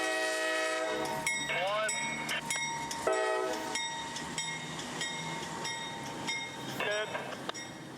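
A CSX freight train works in Florida's Bone Valley, picking up an open wet rock gondola; strong horn blasts and wheel squeals ring out over steady rail rumble, with faint talk behind.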